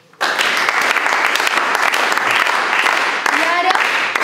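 A forum audience claps together, trying to keep one shared rhythm, a loud, dense, sustained wall of crowd applause that starts abruptly and runs without pause.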